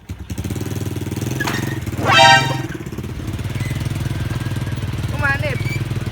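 A motorcycle engine runs steadily throughout with a low, throbbing drone, while voices talk over it and a brief louder surge and a horn-like tone rise near the middle.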